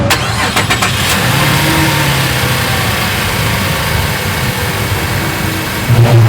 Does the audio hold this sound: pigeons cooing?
no